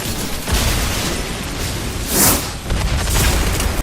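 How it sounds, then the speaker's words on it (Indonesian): A leaking carbon furnace blows apart in a film scene, a loud roaring blast with rumbling debris and a second burst near the end, heavy low booms throughout. "Tekanan dalam tungku semakin kuat dan akhirnya meledak"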